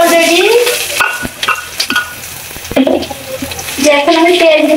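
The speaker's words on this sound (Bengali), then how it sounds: "এখন আমি সরষের তেল দিয়ে দিচ্ছি। এখন আমি পেঁয়াজ কুচি দিয়ে দিচ্ছি।" Chopped onion frying in hot mustard oil in a pot, a loud close sizzle with stirring that continues under a speaking voice.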